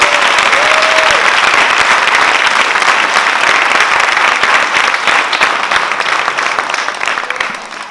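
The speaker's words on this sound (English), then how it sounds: "A big round of applause to them." A large audience applauds musicians after a young troupe's dance and music performance, dense clapping sustained throughout and tapering slightly at the end.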